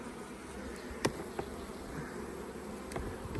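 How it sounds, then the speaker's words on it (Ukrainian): A soft, continuous buzzing of many honey bees at a hive hums in the background, steady throughout, with a few faint clicks and taps near by. "Так, ось бджоли досить багато."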